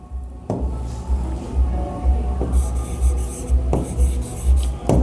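Marker or chalk writing on a board, a steady rubbing scrawl with repeated strokes and brief pauses over a low background hum.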